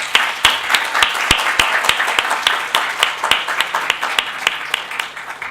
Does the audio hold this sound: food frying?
no